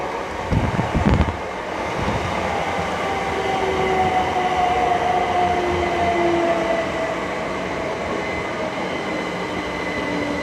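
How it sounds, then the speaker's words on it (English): A Great Western Railway passenger train, the 15:39 service from Didcot Parkway to London Paddington, pulls into Twyford station on the Great Western Main Line, giving a steady rumbling roar with faint tonal whine and wind buffeting throughout. "Arriving in now is 2 Papa 60, the 1539 Great Western Railway service from Didcot Parkway to London Paddington"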